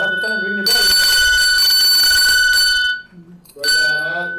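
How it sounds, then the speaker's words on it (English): Bicycle bell rung twice, bright metallic rings loud and close, the first sustained for about two seconds and a shorter second ring after a pause, with voices talking before and after. "I'll have to turn and ring the bell."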